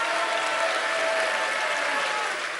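A crowd applauds Boris Johnson's entrance at a Conservative Party event, a dense, steady wash of clapping that holds at an even level throughout and eases slightly at the very end.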